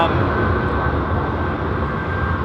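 Steady, loud roar of an airliner departing London Heathrow Airport, a broad continuous engine rumble with a whining tone, constant and close throughout.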